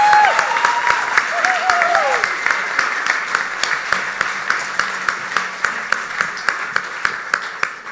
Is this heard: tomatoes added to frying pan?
no